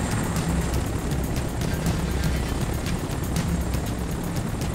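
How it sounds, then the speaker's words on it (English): A helicopter in the video game Crysis Warhead gives a steady, loud rushing roar with a faint rhythmic rotor thump running throughout, with no pauses. "Wait, helicopter? Where the fuck did this come from?"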